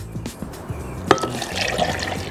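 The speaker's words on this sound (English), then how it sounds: "we're gonna add 1 cup of milk" A cup of milk poured into a blender for a Cinnamon Toast Crunch milkshake, a close liquid splashing and gurgling stream with a few taps and drips at the start, no talking.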